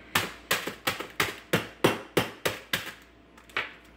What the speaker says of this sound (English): The meat hammer,